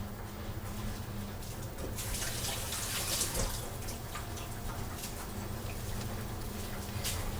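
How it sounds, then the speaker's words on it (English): A home washing machine runs nearby with a steady, even rush of water noise that holds at the same level throughout, with no talking. "Is my washer annoying you guys?"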